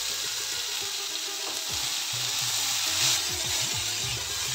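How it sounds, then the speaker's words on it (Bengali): Grated sweet potato fries in ghee with a bay leaf, a steady broadband sizzle with occasional soft stirring scrapes, close and continuous. "কয়েক সেকেন্ড নেড়ে নিয়ে এবার গ্রেট করা রাঙালুটা দিয়ে দেব।"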